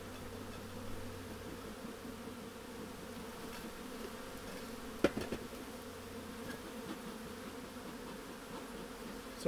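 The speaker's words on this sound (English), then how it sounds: "that pushes the bees off rather than dropping it on top and just squashing them" Honey bees buzz steadily around a beehive in a soft, continuous drone, with one brief knock partway through and no voices.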